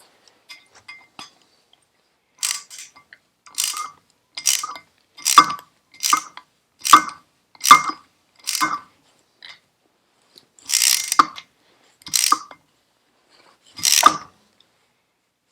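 A socket wrench tightens a bolt on a Firebird car in a rapid series of sharp ratcheting clicks, coming in about a dozen distinct bursts at a steady rhythm, close and clear against silence.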